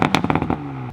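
A Toyota engine in sport mode with its exhaust valve open barks through several sharp, crackling blips in quick succession, then settles into a lower idle drone, loud and close.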